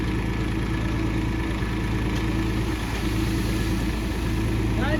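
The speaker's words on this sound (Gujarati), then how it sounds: "સિમેન્ટ અને રેતીની ટ્રેક્ટર ખાલી કરાવી" A tractor engine idles steadily while cement and sand are unloaded from it, a continuous low rumble running through the whole stretch with no talk over it.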